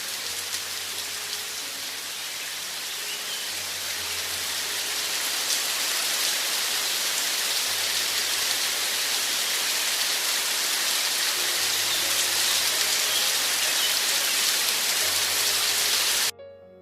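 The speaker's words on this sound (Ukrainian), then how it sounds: "раптом у небі зібрались хмари і хлинув перший весняний дощик" A steady spring rain shower falls without a break, an even, dense hiss of drops on surfaces that holds for the whole stretch, with no voices.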